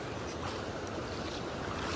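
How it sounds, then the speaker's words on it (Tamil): Water rushes steadily across a road near Idappadi Periya Yeri waterfall, a continuous broadband roar with no breaks, close and fairly loud with some wind noise. "இந்த ரோடு வலிஞ்சு தண்ணி போகுது"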